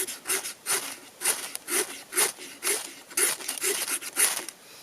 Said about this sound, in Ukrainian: А виробник показує взагалі, що висікати іскру самою пилкою.